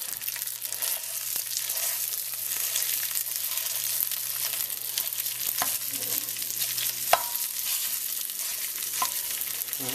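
Crumbled sausage frying for biscuits and gravy on an El Fuego Trio griddle outdoors, a steady broadband sizzle running throughout with occasional scrapes and taps of a spatula, close and fairly loud, no talking.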